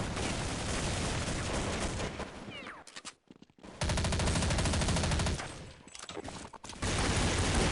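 Loud, rapid automatic gunfire fills a Counter-Strike match, with MP5 and AK bursts coming in long sustained strings, broken by a brief near-silent gap and then more dense shooting.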